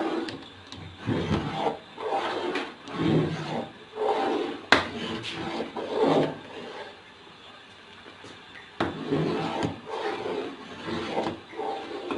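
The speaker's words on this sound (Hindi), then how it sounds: "अब हमने साथ साथ चम्मच चलाते रहना है और साथ साथ इसको पकाते रहना है ताकि ये नीचे ना लगे।" A spoon stirs and scrapes kheer, a rice pudding, in a cooking pot, giving repeated rough rubbing strokes in uneven bursts with brief pauses, close by and with no voices.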